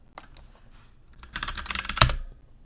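Typing on a computer keyboard, a few scattered keystrokes followed by a quick burst of rapid clicking that ends in one sharp, loud keypress, close and alone.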